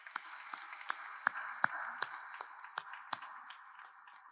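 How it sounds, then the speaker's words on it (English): Scattered hand claps from a small audience at a Veterans Day ceremony, a dozen or so sharp separate claps over a few seconds, fairly faint and sparse rather than a full ovation, with no talking. "So please, a big round of applause for Mr. Garrett"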